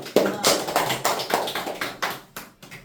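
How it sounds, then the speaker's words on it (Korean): A small group claps in a classroom setting, a handful of distinct sharp claps arriving in a loose, slowing rhythm, each fading quickly, fairly close and modest in volume. "네, 다시 한번 박수."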